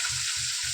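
Fish and raw vegetables frying in a wok: a steady, even hiss of sizzling oil held close, with a soft low pulsing beneath it and no voices.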